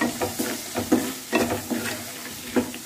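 Chopped tomatoes and onions sautéing in a pan with salt for a chicken uppukari, a steady close sizzle broken by several stirring scrapes at an uneven rhythm.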